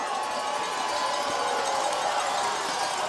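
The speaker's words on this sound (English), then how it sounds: "Aurora crowd again making some noise here on the visitor side" Visiting Aurora fans at a high school football playoff game between Chardon and Aurora in Ohio, a steady broad roar of crowd noise that holds at an even level throughout without breaks.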